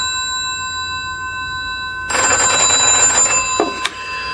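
A telephone bell rings sharply in a quiet room, a loud electric trill that starts suddenly partway through and cuts off near the end, with a brief clatter after it.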